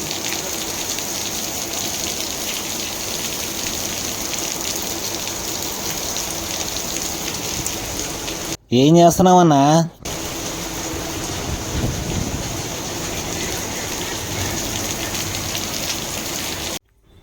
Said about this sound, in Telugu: మీటింగ్ అలా జరుగుతూ ఉండగా సడన్ గా వర్షం పడింది.